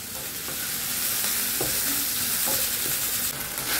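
Meat frying and sizzling in a pan on a home stove, a steady close hiss with occasional stirring clatters and no talk.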